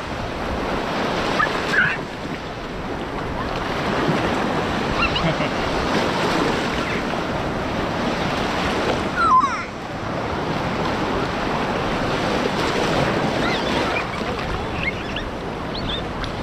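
Sea waves wash steadily onto Long Hai beach near Vung Tau on an overcast, drizzly afternoon, a continuous broad surf roar with gentle swells around 2, 9 and 13 seconds, plus light wind buffeting the microphone.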